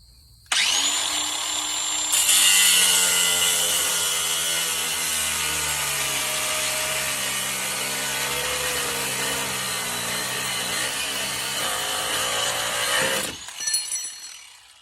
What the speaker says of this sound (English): I'm going to use an angle grinder.